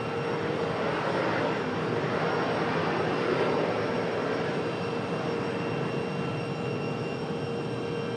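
A Delta airliner departs Raleigh-Durham airport, its jet engines giving a steady, loud broadband roar that holds level throughout with no voices.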